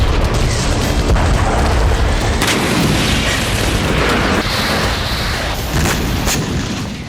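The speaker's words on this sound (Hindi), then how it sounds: "रात के अंधेरे में क्रीमिया की धरती एक के बाद एक कई धमाकों से दहल उठी।" Heavy booming blasts from missile strikes in Crimea at night roll out loud and continuous, with several distinct explosion impacts standing out over a dense rumbling wash.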